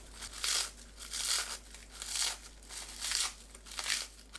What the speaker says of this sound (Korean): 김을 손으로 대충 잘라 넣으세요